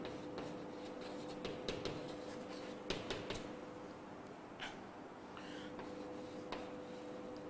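Someone writes out a conclusion during a physics lecture on refraction of light, with faint scratchy strokes and light taps scattered over a steady background hum, without talk.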